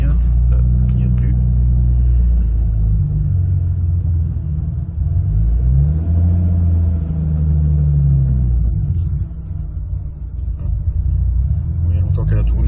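Nissan 300ZX engine idling just after starting, a loud, close, low rumble holding steady throughout with slight shifts in pitch.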